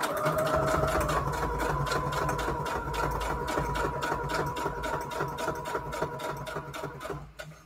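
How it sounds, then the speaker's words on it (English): Sewing machine running a straight stitch on book-page craft pockets, a steady rapid mechanical chatter close up that slows and stops near the end. "So let's sew this up."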